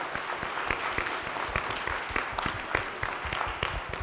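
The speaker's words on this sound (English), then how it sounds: "big round of applause for the fantastic panelists" A conference audience claps for the panelists after an AI panel discussion, a brisk, steady round of applause with many distinct hand claps, moderately close, with no speech over it.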